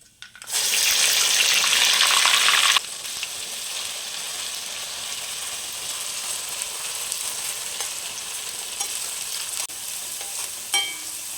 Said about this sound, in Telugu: ఇప్పుడు మనం పోపు వేసుకుందామండి జీలకర్ర ఆవాలు కొంచెం కరివేపాకు ఇందులోకి మనం ఆనియన్స్ పేస్ట్ పట్టుకున్నాం కదండి ఇప్పుడు ఇది వేసుకుందాం